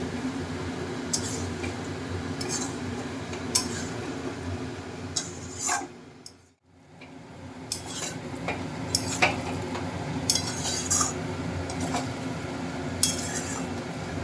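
Jackfruit and prawn curry masala is stirred and sautéed in a pan, with irregular spatula scrapes and metallic clinks over a low sizzle and a brief hush midway.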